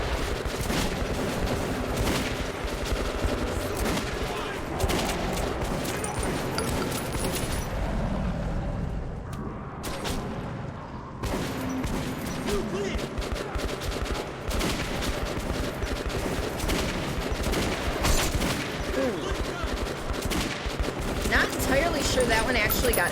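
Rapid bursts of gunfire from the video game Metro 2033 fill the whole stretch, dense and loud, with a brief lull near the middle and a player talking over it.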